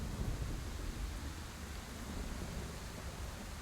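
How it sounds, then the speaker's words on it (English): Steady rain with a low rumble of thunder in the horror visual novel game Scarlet Hollow, a constant hissing wash of rainfall playing alone at a soft level with no voices. "It's raining. It's raining!"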